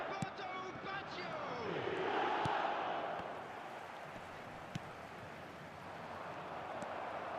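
Stadium crowd noise from an eFootball mobile match: a broad, steady roar swelling midway then easing, with commentary talk over it and occasional sharp ball thumps.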